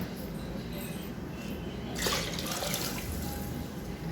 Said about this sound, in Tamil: நெக்ஸ்ட்டு பார்த்திங்கன்னா தேவையான அளவுக்கு தண்ணி ஊற்றிக்கலாம்.